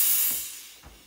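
An espresso machine's steam wand heats milk with a loud, airy hiss that starts strong and gradually fades, with a couple of faint low knocks near the end.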